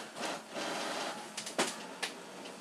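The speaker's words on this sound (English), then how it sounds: "as you can hear in the background, my printer did print the test page" A printer printing a test page in the background, a steady mechanical whirr with a few sharp clunks and rubbing sounds near the end.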